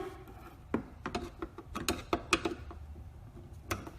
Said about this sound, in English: All you have to do is unscrew these screws right here